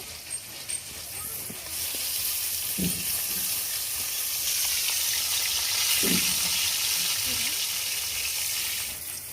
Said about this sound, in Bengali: আমার কিন্তু মাছগুলো এপাশে ভাজা হয়ে গেছে, আমি এই পাশে উল্টাই দেবো